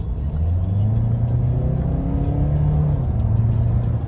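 A Mercedes A-Class AMG Line accelerating briskly from the cabin, a steady loud engine drone rising in pitch through the gears over continuous road rumble.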